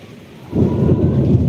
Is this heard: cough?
no